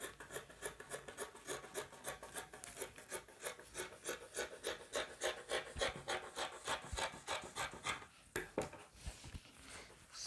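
Fabric for a flare skirt is cut in a steady series of close, rhythmic rasping strokes that keep an even pace for about ten seconds, with a few sharper scrapes near the end.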